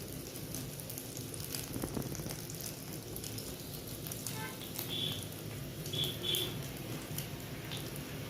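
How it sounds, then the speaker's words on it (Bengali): Bread chop frying in oil at home, a steady soft sizzle and crackle running throughout at moderate level, with a few faint higher clinks near the end. "তেলের মধ্যে ভেজে নেব।"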